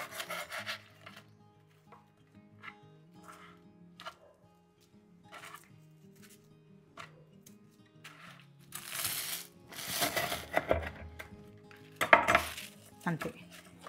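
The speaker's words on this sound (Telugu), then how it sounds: "ఈ లోపల బ్రెడ్ ముక్కలు అన్నిటిని కట్ చేసుకుందాం" A knife saws through bread slices in a kitchen, with intermittent scraping and rasping strokes and light clinks of utensils, growing louder and denser toward the end.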